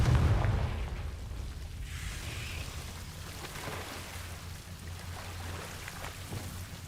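A Confringo blasting spell goes off in Hogwarts Legacy with one sharp, booming burst at the start, then fades into a low rumbling, crackling tail that stays faint and steady.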